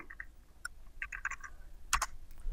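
Quiet clicks of a computer keyboard as someone types in short bursts, a few scattered keystrokes then a quick cluster and a louder final tap, close and soft with no talking.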